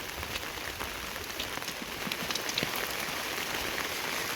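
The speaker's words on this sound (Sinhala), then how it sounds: "වැස්ස දැන් ටික ටික අඩු වෙගෙන එනවා" Steady rain patters on the ground and foliage beside a railway line on the Kelani Valley route between Padukka and Kosgama, a dense even hiss with scattered sharper drops, fairly quiet, no voices.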